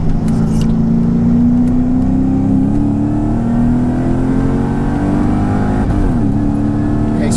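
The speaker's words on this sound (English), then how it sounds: "okay, so I hit the rev limiter there." A supercharged Mercedes-Benz E55 AMG W210 with a Kleemann 55-K2 kit and a misfire revs hard up to its rev limiter, the engine note climbing steadily and staying loud and close throughout with a brief stutter near the end.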